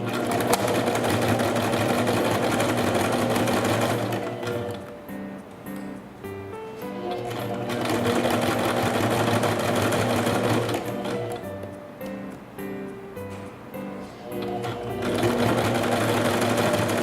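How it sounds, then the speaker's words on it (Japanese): Sewing machine stitching a fabric edge for a dog's apron skirt, running in steady rapid bursts with brief pauses between runs, close and loud with no talk. "この布の端から1ミリから2ミリ程度のところを縫っていきます。"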